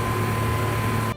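Brief medium-speed engine drone from the Halo 3 Warthog in the video game, a steady humming tone with no one talking over it, cut off abruptly at the end.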